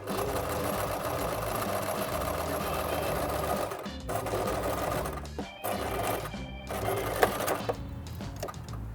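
A sewing machine runs close by, stitching a fabric channel along a folded edge for a minidress, its rapid mechanical clatter halting briefly several times before resuming.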